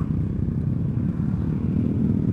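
A custom motorcycle rides along the road on a group Sunday-morning ride, its engine giving a steady, close, low rumble throughout with no talk over it.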